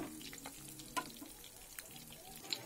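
Kawai fish frying in oil in a home kitchen, a faint continuous sizzle with a few soft pops and clinks, quiet and alone.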